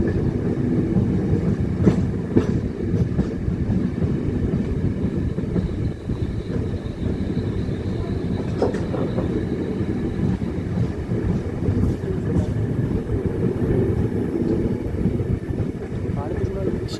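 A train creeps slowly over a bridge under repair, giving a continuous low rumble and rattle that stays steady and fairly loud throughout, with wind buffeting and faint voices in the background.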